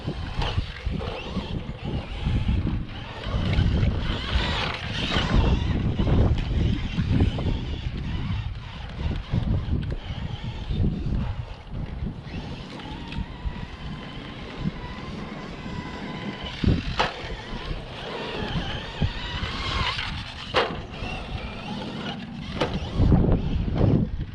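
A Traxxas Stampede 3606 RC truck with an all-steel-gear transmission runs on a track at full throttle, its motor whining with constant wind and outdoor noise for about 24 seconds, surging and easing over the run without talk.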